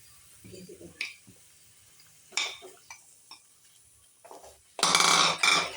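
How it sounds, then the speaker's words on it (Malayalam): Scraping and clinking of a spoon stirring semolina in a pan over low heat for upma, in short separate bursts with quiet gaps, ending in a louder stretch of scraping. "റവ കുറേശ്ശെയായിട്ട് ഇട്ടുകൊടുത്ത് ഇളക്കുക"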